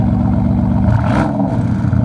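A cold Lamborghini Urus SE V8 gives a steady, loud, close engine rumble that swells into a brief rev near the middle and then settles back, with no talking.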